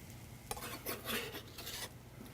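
Shallots and red jalapeno hit a hot pan and saute, with soft sizzling and a few scraping, clinking stirs of a utensil against the pan, faint and close.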